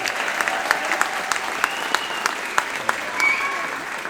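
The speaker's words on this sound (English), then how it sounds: "One more round of applause for the 7th grade band." A school audience at a middle school pops concert applauds the 7th grade band, with steady, dense clapping heard close by and no talk over it.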